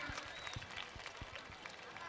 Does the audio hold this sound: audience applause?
yes